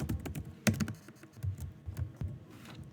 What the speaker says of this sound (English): If I go to Google Scholar and I type in